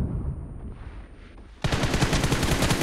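Rapid bursts of gunfire in a team deathmatch video game, a quieter stretch giving way to a sudden loud, dense volley that keeps hammering steadily to the end.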